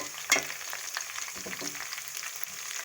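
Onions fry toward golden brown in a pan, a soft steady sizzle with a sharp stirring clack near the start and light scraping through the short stretch.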